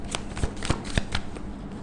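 Tarot cards shuffled for drawing the last card in an angel-guidance reading: a quick riffle of papery flicks with a few sharper slaps, close and moderately loud, no talking.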